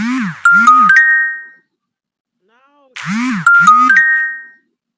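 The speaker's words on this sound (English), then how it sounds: "Because weird people are texting my phone, Jay." Two identical phone text message notification chimes sound about three seconds apart, each a bright rising series of ringing tones, loud and clear against silence.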